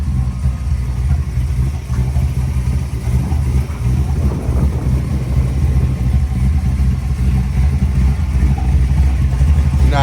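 A 1968 Chevrolet C10 pickup with a 468ci V8 and six-speed automatic idles steadily close by, a deep low rumble with a lopey pulse and no revving throughout.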